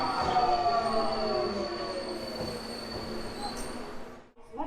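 A Budapest metro line 2 train running, a steady loud rumble of wheels on track with sustained high whining tones and squeals throughout, cutting out briefly near the end.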